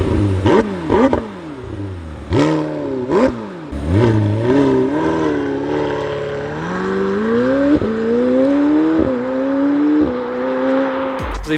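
McLaren 765LT sports car accelerating hard along a short straight, engine note climbing through repeated upshifts with brief dips between gears, loud and close with no talking.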